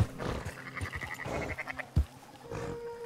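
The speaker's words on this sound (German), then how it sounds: "Der Schäfer, der seine Schafe über die Weide treibt." In Red Dead Redemption II, a flock of sheep driven across a pasture by a shepherd bleats in several short, rough calls at moderate distance over a soft outdoor background, with no talking.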